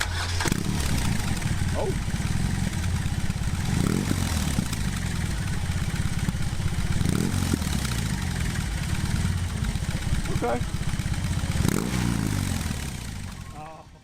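A BMW R18 motorcycle's engine turns over and settles into a steady, deep idle with its exhaust rumbling throughout, a few brief swells of revving rising above it, and a person speaking briefly.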